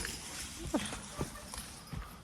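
Working logging horses on rough, rooty ground, with hooves giving a few irregular soft thuds close by, under a voice calling commands.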